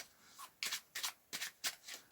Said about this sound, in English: They get shuffled into the pack